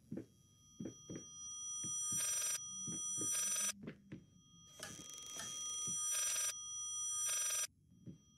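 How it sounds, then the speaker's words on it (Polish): An old-style telephone bell rings in the horror video game Layers of Fear, repeated loud metallic ringing bursts in a steady pattern with dull thumps between them and no speech. "Jakiś telefon dzwoni."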